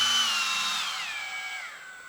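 A Dremel 8260 brushless, battery-powered rotary tool runs on its own with a steady, high-pitched whine. The pitch slides gradually lower over about two seconds and stays fairly loud and close throughout.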